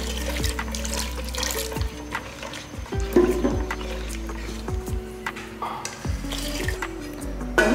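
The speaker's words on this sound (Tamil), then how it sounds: "உடனே தண்ணி ஊற்றிடலாம்." Water splashes and trickles steadily into a pan of fish curry base just fried in oil, with clinks and bumps of cookware throughout, close and fairly loud.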